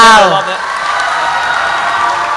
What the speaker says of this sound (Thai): เอาปรบมือหน่อยพวกเรา